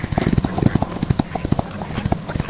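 Rhythmic hooves clip-clop at a steady trot from a horse in the Rival Stars horse game, loud and close, with a player talking over them.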